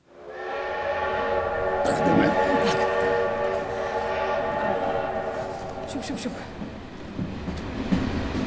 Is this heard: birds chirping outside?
no